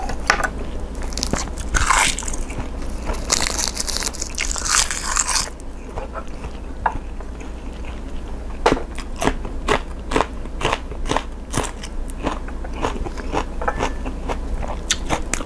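Crisp, close crunching and biting from eating thick slices of salmon sashimi wrapped in seaweed and dipped in spicy seafood sauce, with repeated sharp crackles and chews at a steady rhythm and no talk.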